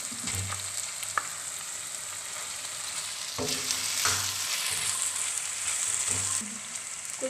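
Onion and garlic sizzle in oil in a pan for beef keema, a steady close hiss with occasional clinks and scrapes of a spoon stirring, louder bursts of frying partway through, no talking.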